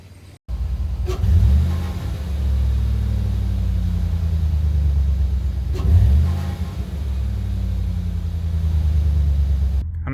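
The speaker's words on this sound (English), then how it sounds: "I guess we'll start her up and see how she sounds." A 2007-08 Chevrolet Silverado pickup fitted with an S&B cold air intake cranks and starts with a sharp burst. It settles into a loud, steady idle rumble, with a brief rev near the middle, and no one speaks.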